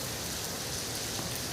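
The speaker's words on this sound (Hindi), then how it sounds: "अब आप बारिश के आनंद उठाओ" Steady rain falling and pattering on surfaces, a dense continuous hiss filling the whole moment at even loudness, with no voices.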